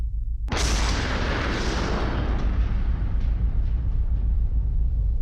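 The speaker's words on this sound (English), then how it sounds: "Let's watch that explosion in slow motion." A tannerite target struck by rifle fire detonates in a sudden, massive boom, played back in slow motion so the deep rumble rolls on and slowly fades over several seconds, with no talking.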